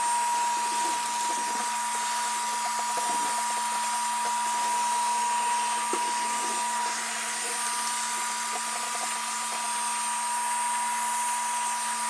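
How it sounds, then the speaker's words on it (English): A vacuum cleaner runs continuously while vacuuming out an electric oven, giving a steady, loud whirring drone with a constant hum and faint scraping bumps of the nozzle throughout. "we'll get the vacuum cleaner and vacuum it out"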